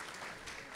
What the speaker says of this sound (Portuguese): Palmas para os aniversariantes.